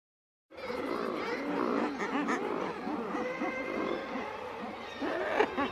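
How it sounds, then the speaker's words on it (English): Razorbills call continuously as a dense, growling chorus of overlapping harsh, rolling cries that stays fairly steady throughout. "Razor bill."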